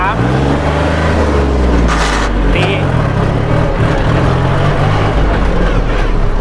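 A 2018 Kubota L4018 tractor drives in first gear, its engine a loud, steady, close rumble while someone talks over it.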